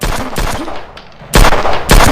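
Rapid bursts of automatic gunfire from a shooting video game, loud and close, in two clusters separated by a short quieter gap.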